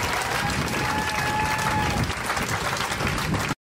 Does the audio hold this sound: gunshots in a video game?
no